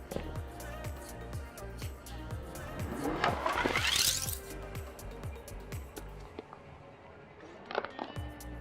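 A car drives across a painted canvas, its engine and rolling tires steady throughout, with a rising squeal-like sweep in the middle and a few sharp scrapes near the end.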